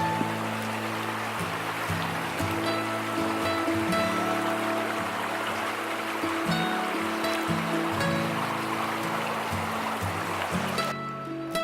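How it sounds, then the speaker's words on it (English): A small mountain stream, home to native brook trout, flows in a steady, full rush of water close by, with low tonal burbles running underneath throughout and no voices. "I've been fishing up this stream and it's getting pretty small"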